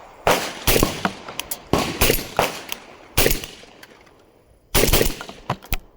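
Mac 1014 shotgun firing five loud, sharp blasts at uneven intervals, each with a short ringing tail, with no voices between the shots.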